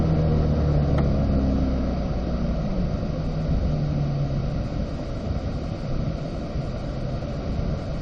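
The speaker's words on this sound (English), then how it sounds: "everybody should be back up to 4th gear as we get going with Jim." A Chevrolet Corvette C8 car on a racetrack, its engine droning steadily in a low rumble that eases slightly over several seconds, heard close from inside without any speech.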